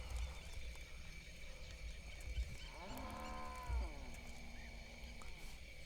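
A pig gives a drawn-out groaning call at middle distance over a steady outdoor hum, with faint talk in the background.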